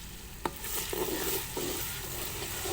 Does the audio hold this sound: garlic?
yes